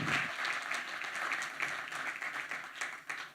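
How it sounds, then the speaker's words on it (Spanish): An audience at a business conference claps and applauds steadily, a dense wash of hands that holds fairly loud from start to finish. "Los recibimos con un fuerte aplauso."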